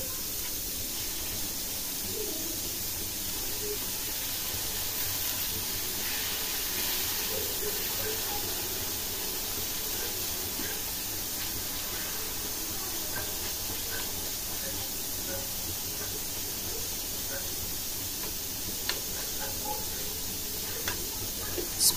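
Bitter gourd frying in onion paste in a pan, a steady bright sizzling hiss running throughout with small crackles and pops, a voice speaking over it at times.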